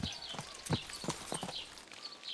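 Horse hooves clip-clop at a steady riding gait in Kingdom Come: Deliverance II, a series of distinct thuds close by against a low ambient background, with no talking.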